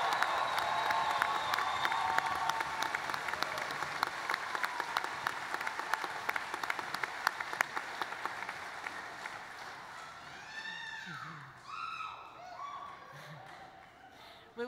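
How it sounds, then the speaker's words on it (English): A graduation commencement crowd at SIUE gives its graduates a long, sustained round of applause. Dense clapping and some cheering fill a large hall, then thin out and fade near the end while a few voices chatter. "let's give our graduates one final round of applause"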